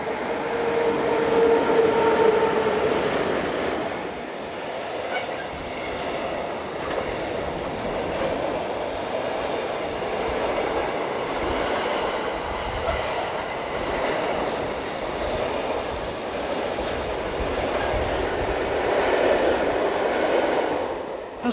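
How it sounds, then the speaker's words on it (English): A Swiss Re 6/6 electric locomotive hauls a train down the slope of the Gotthard main line, a loud continuous rumble of wheels and rail noise rising and swelling as it passes close by, with no voices. "as 11689 drops down the slope of the Gotthard main line"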